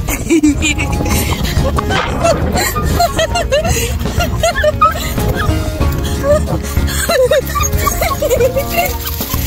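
Several young puppies bark, yip and whimper close by on an off-grid farm, short high-pitched cries coming in quick bursts over steady background noise while a person talks.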